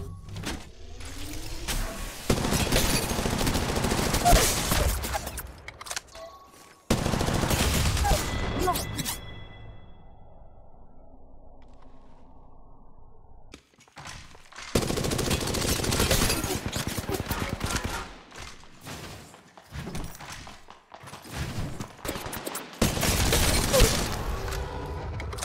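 Gunfire in Apex Legends Mobile from a fast-firing weapon: several loud sustained bursts of rapid shots separated by quieter gaps with a low hum and mechanical clicks.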